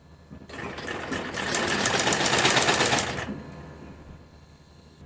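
A sewing machine stitches piping around a kurti's round neck in one continuous, close, rapid run of about three seconds, then stops and leaves quiet room tone.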